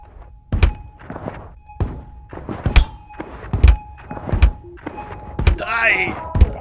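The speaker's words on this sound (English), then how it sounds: "This thing looks like a railgun, but it's actually a shotgun." A railgun-looking shotgun fired repeatedly in the zero-gravity tactical shooter Boundary, giving a series of sharp, heavy thunks at an irregular pace, about a dozen shots with muffled mechanical cycling between them and a brief burst of game noise near the end.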